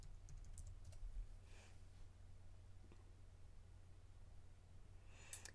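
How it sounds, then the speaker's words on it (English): Typing on a computer keyboard comes through as faint, scattered key clicks over a steady low hum, quiet and close, with no talking. "I'm just typing in at my keyboard."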